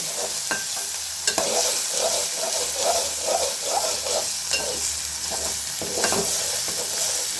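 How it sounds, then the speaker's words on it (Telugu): Ginger garlic paste for egg curry fries in oil while being stirred steadily, with rhythmic scraping strokes over a constant loud sizzle, close up, and occasional sharper clicks of the spoon against the pan. "ఇప్పుడు జింజర్ గార్లిక్ పేస్ట్ దీంట్లో వేసి వేసినాము ఇట్లా బాగా కలిపెట్టాల ఫ్రై అయ్యేంత వరకు"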